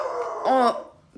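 A dog barks once, a short sharp bark close by, heard in a home during a live sports Q&A stream, with a brief bit of speech before it.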